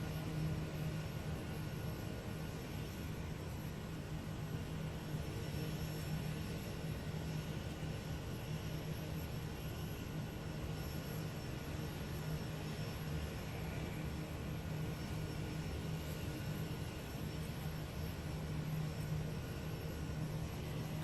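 A Kodiak K100 single-engine turboprop taxiing across a runway, its engine holding a steady, unbroken drone with a constant low hum and faint high whine throughout, no voices over it.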